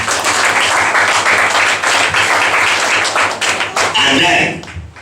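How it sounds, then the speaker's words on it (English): Church congregation clapping during a Sunday service offering, a dense steady patter of many hands filling the room, loud and sustained for several seconds before tapering off, with voices mixed in. "And clap offering to God"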